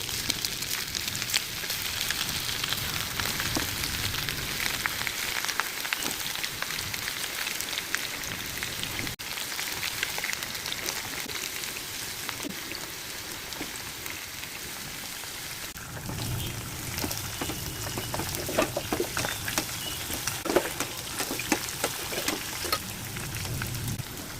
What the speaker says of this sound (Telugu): ఈ బాగా హీట్ అయిన ఆయిల్లో మసాలా కలిపి పెట్టుకున్న కొరమేను ముక్కలను వేసుకోవాలి